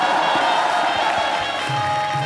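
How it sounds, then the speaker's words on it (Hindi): Studio audience at a comedy talk show clapping and cheering in a dense, steady wash of applause that fills the whole stretch, with a voice briefly audible through the noise. "तालियां बजाना"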